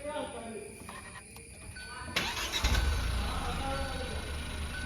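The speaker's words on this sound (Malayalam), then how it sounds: "ബ്രേക്ക് ഇട്ടിട്ട് സ്റ്റാർട്ട് ചെയ്യാം" A car's engine turns over and catches partway through, then settles into a steady idle, with a person talking nearby throughout.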